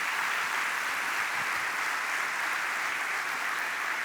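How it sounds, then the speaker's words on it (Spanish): A church congregation breaks into continuous applause, a thick, even roar of many hands clapping at once that holds steady at a constant level from start to finish, with no talk over it. "Dale a Dios un aplauso por eso."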